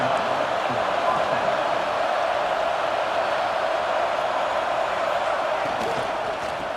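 A packed American football stadium crowd roars steadily and loudly after a big play, a dense continuous wash of noise filling the whole stretch without a break.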